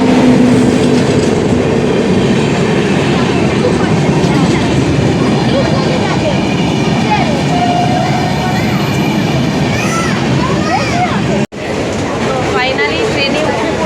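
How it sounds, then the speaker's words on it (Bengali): Jan Shatabdi Express passenger train pulling away, a loud continuous rumble of wheels with clickety-clack and occasional squeals heard from on board, people talking faintly beneath it. "ফাইনালি ট্রেনে উঠে পড়েছি এবং আমাদের ট্রেনও কিন্তু ছেড়ে দিয়েছে।"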